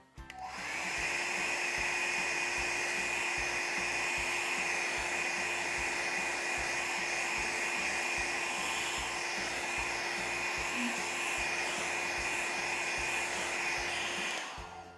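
Hair dryer blowing steadily on painted decoration on a liquid soap kit, a close, continuous whirring hiss with a faint whine that runs unbroken for about fourteen seconds with no talk.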